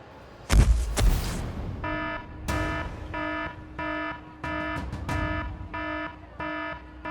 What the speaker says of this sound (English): That is the alarm. You should leave immediately.